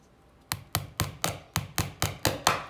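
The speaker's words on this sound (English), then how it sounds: "take one of the nails that I had from the beginning of this class, and I'll hammer it in" Nine sharp hammer taps drive a nail through popsicle sticks into layered cardboard, evenly spaced, close and crisp, each blow fading quickly before the next.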